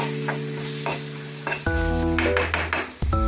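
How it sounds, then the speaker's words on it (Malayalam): Egg curry masala stirred in a frying pan, a spoon scraping and clinking against the metal over a steady close sizzle, with several sharp scrapes and knocks toward the end. "എല്ലാം കൂടി ഒന്ന് നല്ലതുപോലെ ഒന്ന് ഇളക്കി യോജിപ്പിക്കണം."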